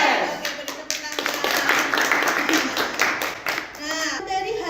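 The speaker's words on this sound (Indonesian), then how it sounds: "beri tepuk tangan." A classroom of students claps hands together in a lesson, a dense, close burst of clapping with voices mixed in and a teacher talking as it trails off.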